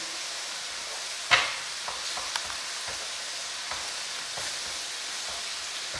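An egg is scrambled in a frying pan, giving a steady low sizzle with a sharp scrape or clack near the start and a few soft taps from stirring.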